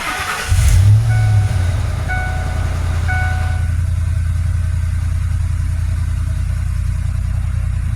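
A Ford F-series pickup engine idles right after an oil change, a steady low drone that holds evenly and loudly from start to finish, with a brief clatter at startup.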